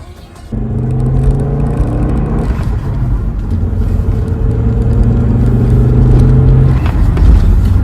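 A 1998 Volvo V70 engine starts running loudly up close, idling with a steady rumble and then revving up and back down twice, with no voices over it.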